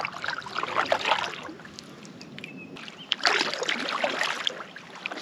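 A canoe paddled through water on a winter camping trip in British Columbia, soft splashes and trickles from the strokes rising and falling over the water, close by with no talking.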